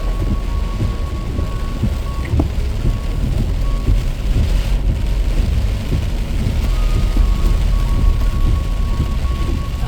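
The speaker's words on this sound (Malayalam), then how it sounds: "ആടി ഒലഞ്ഞുള്ള പോക്കാണ് മഴയത്താണ് പോക്ക്" Heavy rain pours steadily around a four-wheel-drive vehicle on a rough off-road track, a loud constant wash of drops with low rumbling underneath and a faint electronic beep.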